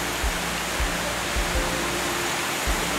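A river rushes near a waterfall in a steady, loud roar of flowing water, with occasional low thumps underneath.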